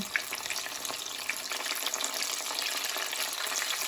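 Vegetable tofu rolls (lumpiang gulay tokwa) frying in a pan of oil, a steady dense crackling sizzle with bright spattering pops throughout, close and continuous with no talk.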